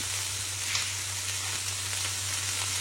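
Sauce poured into a hot pan sizzles steadily, a continuous close frying hiss with no speech.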